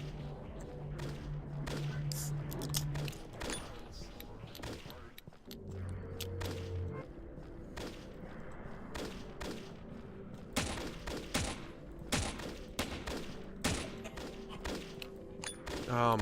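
Pistol gunfire in the video game Postal: repeated sharp shots in irregular bursts over a dense game soundtrack, loud and close, with someone talking over parts of it.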